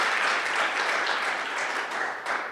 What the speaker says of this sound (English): Please give Yusuf a great round of applause for pulling everybody together